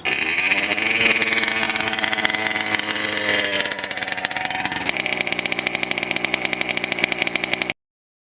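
A gas-powered giant RC truck engine starts and runs, its loud, buzzy two-stroke-like note steady at first, then shifting to a sharper, rapidly pulsing rhythm before cutting off abruptly near the end.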